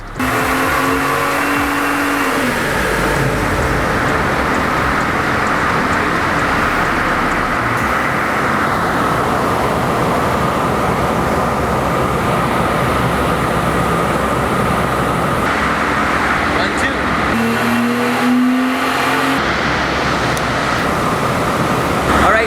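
A BMW F30 340 with a B58 engine and aftermarket intake runs on a dyno, a loud sustained engine roar building and holding through the pull, then dropping near the end.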